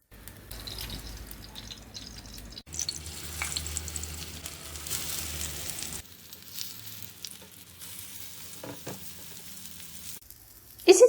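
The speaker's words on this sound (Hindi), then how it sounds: "हम दूसरे कबाब भी फ्राई कर देंगे।" Rice kebabs fry in hot oil with a steady sizzle and crackle, broken by shifts as pieces are moved or turned, ending in a short clatter; nobody speaks.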